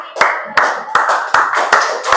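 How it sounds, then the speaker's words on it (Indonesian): A school class gives a group of students a short round of hand claps. The claps come in about five loud bursts in an even rhythm, close and crisp, with a voice faintly behind them. "Oke, beri tepuk tangan untuk kelompok"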